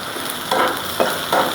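Chopped garlic and green chillies fry in hot oil for a fish curry, with a steady close sizzle and hiss that swells briefly three times as the pan is stirred.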